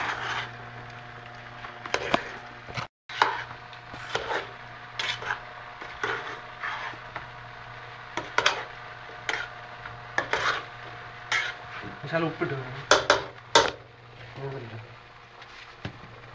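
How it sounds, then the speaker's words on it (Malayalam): Camel meat being stirred through a thick masala gravy in a pan, with repeated scraping and clinking of a spoon against metal, fairly close, over a steady low hum with some faint rustling. "ഇത് നന്നായിട്ടൊന്ന് ഇളക്കിയെടുക്കുക. ആ ഗ്രേവി ആ മസാലയൊക്കെ ആ ഇറച്ചിയിൽ പിടിക്കത്തക്ക രീതിയിൽ നന്നായി ഒന്ന് ഇളക്കി എടുക്കുക"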